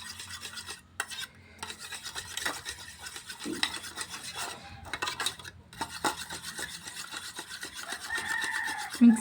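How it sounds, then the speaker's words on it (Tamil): Homemade moisturizer cream is mixed by hand, producing soft, close scraping and rubbing strokes against a container in an uneven rhythm, fairly quiet with no voices. "நல்லா மிக்ஸ் பண்ணிக்காங்க."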